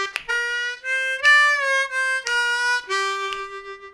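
Slow blues triplet lick on a C harmonica, a sequence of distinct reedy notes including a half-step bend and two draw, played alone and close with short breaks between phrases.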